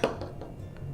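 A spoon swirls maple syrup through ice cream in a bowl, giving one sharp clink at the start, then a few light taps and scrapes against the dish.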